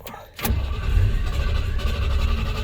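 A 1979 Ford Ranger pickup engine cranks and catches, then settles into a loud, steady running rumble, close by and with no talk.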